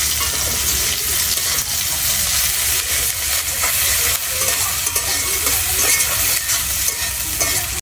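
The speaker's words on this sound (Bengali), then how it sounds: "পেঁয়াজটা ভাজা হয়ে গেছে" Chopped onion fries in oil in a pan for a small-fish curry, giving a steady, dense sizzle and crackle that runs unbroken throughout at close range, with no voices.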